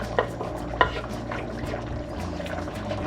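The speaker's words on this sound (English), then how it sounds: "don't stir too hard, because we don't want the meat to be breaking apart" Jamaican oxtail stew with onions and bell pepper being stirred in a pot, a soft bubbling simmer with a few spoon knocks against the side near the start.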